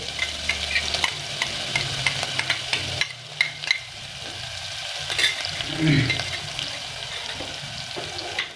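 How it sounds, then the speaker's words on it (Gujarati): Ginger-garlic paste hits hot oil where garlic is already browning, giving a steady close sizzle with scraping stirring strokes and a brief watery gurgle partway through, no voices. "આ આદુ લસણની જે પેસ્ટ છે એ પેસ્ટને આપણે આમાં ઉમેરી દેવાની છે"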